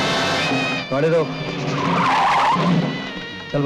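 A car brakes hard in a 1980 Hindi action film scene, tires skidding with a wavering squeal that rises and fades over a few seconds while the engine hums underneath.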